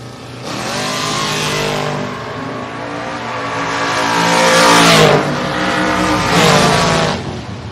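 Drag racing cars, one of them a Camaro, launch side by side at a Friday drag strip meet, loud engines revving and rising in pitch in surging waves as they pull away.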